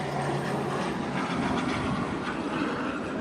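A freight train with a covered hopper car rolls past with a steady, broad rumble and faint wheel clatter, close and continuous for the whole moment, with no voices.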